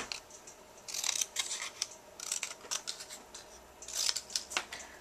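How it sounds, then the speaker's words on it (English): Scissors snipping through paper in close, quiet bursts of crisp cuts, with short pauses between runs of snips. "all I'm going to do is just cut this out with a pair of scissors"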